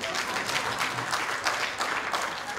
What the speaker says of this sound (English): Big round of applause for Kenneth Mugabe.